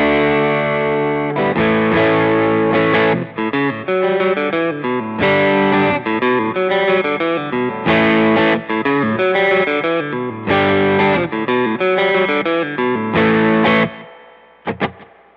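Distorted electric guitar captured through Shure SM57, Beyerdynamic M88 and Sennheiser 421 microphones, playing a loud, steady run of chords and riffs for about fourteen seconds before a brief quieter tail, with no talking.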